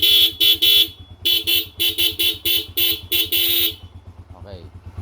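A Kawasaki LS 135 motorcycle horn beeps repeatedly in short blasts and groups, loud and close, over a steady idling engine, then stops.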